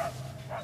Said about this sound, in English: It was just a dog.